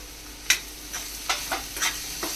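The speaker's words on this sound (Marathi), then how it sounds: "हे चांगले व्यवस्थित परतून घ्यायचं।" Spices for dal tadka, coriander powder, kitchen king masala and Kashmiri chilli, fry in hot oil as a spoon stirs them, a steady close sizzle broken by several light scraping strokes, with no talking.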